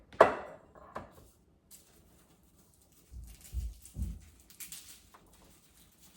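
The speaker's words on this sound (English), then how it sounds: "I'm going to mince some garlic" Garlic being minced with a knife, giving a sharp first chop followed by scattered, uneven knocks on a board with quiet gaps between them.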